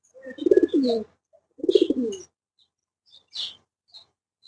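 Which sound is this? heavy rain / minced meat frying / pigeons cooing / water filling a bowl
pigeons cooing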